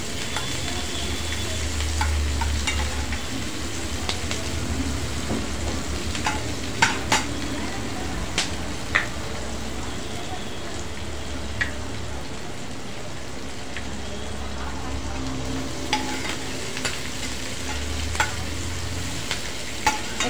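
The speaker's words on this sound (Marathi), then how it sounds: "एक 5 मिनिटं हे असं परतून घ्यायचं तेलामध्ये" Spices and onion for kaju masala stir-fry in oil in a pan, giving a steady close sizzle with the scrape of a spatula and a few clinks across the whole stretch.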